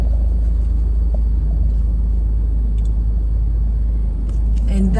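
Steady low car engine rumble from inside a vehicle driving along a rural Kansas road, loud and continuous with constant road drone and no talking.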